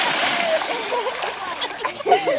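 People bathe outdoors in warm water during hot weather, with a steady wash of splashing and sloshing under lively voices talking and calling nearby.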